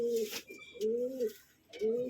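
Pigeons coo in a loft: three close, throaty calls, each a rising-and-falling warble, separated by short pauses over faint background noise.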